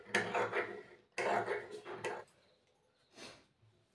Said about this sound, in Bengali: তো এইটুকুটা আমি কেটে দিচ্ছি